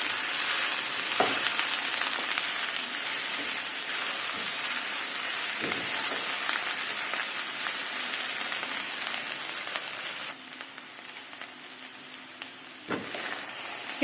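Okra (bhindi) fries in a pan with green chillies, giving a steady, close sizzle with a few sharp clacks of stirring at intervals.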